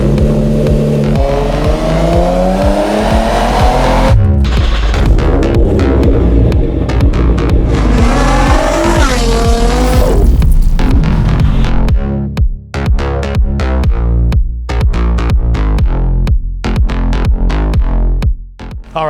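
A 2020 Nissan 370Z automatic with a twin-turbo kit cranks and starts, rises into rough revving, then settles into a loud, throbbing idle with uneven pulses.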